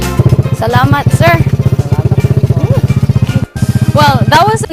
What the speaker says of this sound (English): that was a nice quick drive on a motorbike down a scenic route